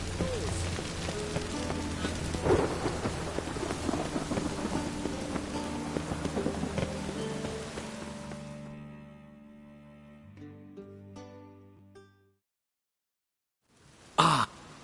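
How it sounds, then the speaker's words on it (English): Steady rain hisses over a game scene from The Witcher 3, with low rumbles and a muffled cough, before fading to near silence and a brief sharp burst at the end. "I like rain."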